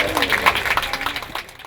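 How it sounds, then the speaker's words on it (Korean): A hall audience applauds to welcome the language institute director at Hanseo University's 9th Korean speaking contest for international students. The clapping is a brief, dense, steady patter that thins toward the end, with some voices mixed in. "큰 박수로 환영해 주십시오"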